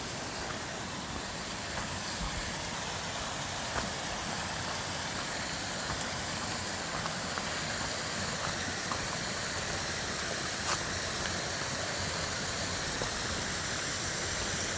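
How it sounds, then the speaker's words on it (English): Water from the waterfall at Rotary Park on Casper Mountain, Wyoming rushes in a steady, loud, unbroken roar close by, with occasional faint clicks and no speech. "I want you to hear the water. It's the waterfall right here, or the water that comes out of the waterfall."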